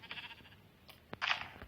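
Sheep in the video game Minecraft bleat in a few short, quiet cries in quick succession, the last one slightly louder and more drawn out.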